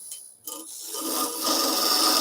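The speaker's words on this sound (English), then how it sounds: "So we're going to drill a hole." Drill or gouge boring a hole in a wooden bird-shaped box turning on a lathe, starting quiet then building into a steady rasping, scraping whir that grows louder and continues alone.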